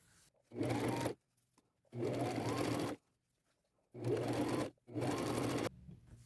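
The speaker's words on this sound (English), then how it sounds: "I will just tuck and sew, tuck and sew" A sewing machine stitches the lining of a layered ruffle crossbody purse, running in four loud, close bursts of roughly a second each, separated by short quiet pauses.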